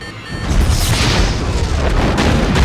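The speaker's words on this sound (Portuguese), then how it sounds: "na tentativa de se livrar dos policiais com a maior explosão de todas, Whistler acaba com tudo e morre." A huge explosion from a Blade film, set off while escaping police, rumbles with a loud, sustained low boom that swells and rolls on for seconds without any voices.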